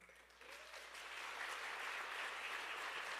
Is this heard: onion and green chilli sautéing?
no